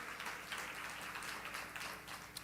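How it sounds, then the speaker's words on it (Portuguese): A church congregation claps together in a steady, dense wash of applause. It sounds moderately distant and continuous throughout. "pode aplaudir o Senhor Jesus Cristo."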